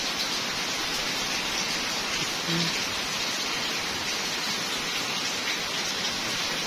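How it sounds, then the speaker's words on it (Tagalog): Heavy afternoon rain in Mindanao pours steadily, a dense unbroken hiss of water drumming on surfaces with no pauses. "Lakas ng ulan."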